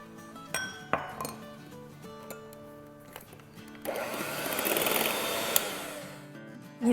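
An electric mixer whirs steadily through marble biscuit cake batter, starting after a few light clinks of bowls and utensils and running as a loud, continuous close-up drone.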